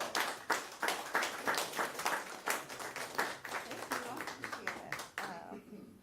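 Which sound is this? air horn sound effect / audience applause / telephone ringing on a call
audience applause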